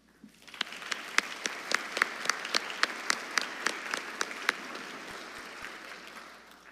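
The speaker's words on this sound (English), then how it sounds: "Please give yourselves a round of applause." Graduating students and the audience at a Class of 2024 commencement clap: crisp, close individual claps ring out in a quick, even rhythm over a broader crowd of hands, then the sound tapers off.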